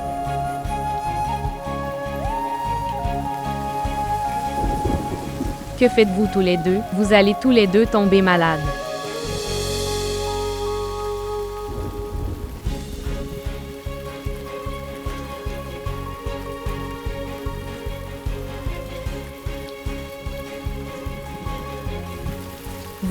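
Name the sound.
rain falling outside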